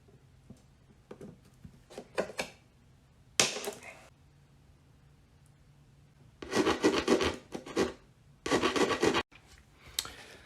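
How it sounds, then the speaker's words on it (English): Small screws on a model aircraft's hinges and control horn being cut down to length, a few separate bursts of rasping metal cutting with quiet pauses and light handling knocks between them. "Now those screws are too long, so I'm going to cut those down."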